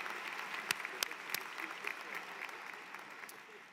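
A graduation ceremony crowd for business and STEM undergraduates giving another round of applause, an even, fairly distant roar of clapping with a few sharper claps standing out, fading gently near the end.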